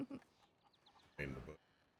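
Escaped chickens cluck in a Red Dead Redemption 2 roleplay game, a couple of short clucks at the start and a louder burst of clucking near the middle, quiet and close, with faint chirps between.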